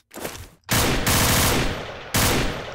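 M9K weapon fire in the Garry's Mod video game: loud, dense bursts of shots with short gaps between them, close and with no talking.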